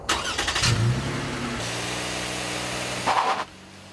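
A 2015 Toyota Sienna minivan's engine accelerates on a cold, icy test track, a steady mid-pitched drone that holds and then rises briefly after a gear change.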